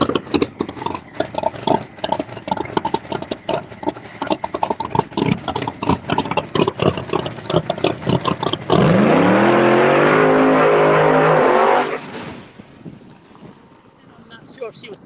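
A drag race car fitted with steel wheelie bars rumbles and pops through rough, uneven idle bursts, then roars into a loud sustained full-throttle run that fades away at a Bradenton drag strip, with someone talking over it.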